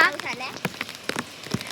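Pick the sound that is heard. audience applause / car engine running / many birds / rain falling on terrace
rain falling on terrace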